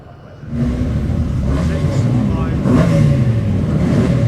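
Mini racing cars in the Mini Miglia series rev in parc fermé at Silverstone, a loud continuous engine roar close by with a voice talking over it.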